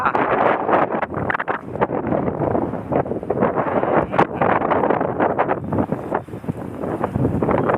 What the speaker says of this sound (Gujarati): ટાઢો પવન આવી ગયો